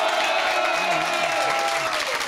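Studio audience applauds guest Jimmy Labeeu on a talk show with a sustained wash of clapping while a host's voice runs over it.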